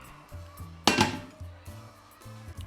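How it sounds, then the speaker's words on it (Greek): A wide, shallow cooking pot set down in a home kitchen, giving a single loud metallic clank followed by softer clinks and faint knocks. "Και πάμε να ετοιμάσουμε τώρα την κατσαρόλα μας."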